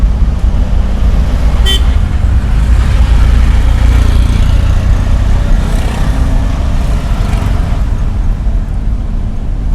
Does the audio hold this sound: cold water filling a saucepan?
no